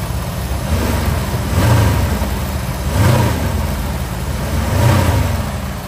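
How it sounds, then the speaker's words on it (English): A restored 1977 Ford Bronco with a 302 two-barrel V8 runs steadily and smoothly, a close low rumble that swells gently in three soft revs. "Very, very smooth running engine."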